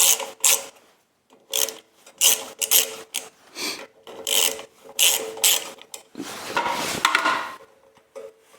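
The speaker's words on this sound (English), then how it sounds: "This recoil clutch is spinning both directions freely." A Briggs and Stratton recoil starter clutch, faulty and spinning freely in both directions, gives repeated bursts of ratcheting, rasping mechanical whirring in an uneven rhythm, close and fairly loud, with short pauses between spins.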